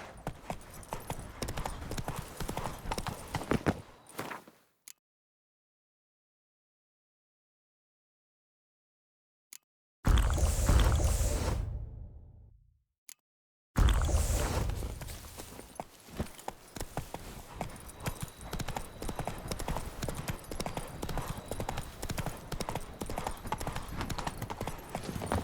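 Roach, a horse in The Witcher 3 Blood and Wine, gallops with rapid rhythmic clip-clop hoofbeats, broken by two stretches of silence and a short burst of louder hooves before galloping resumes steadily to the end.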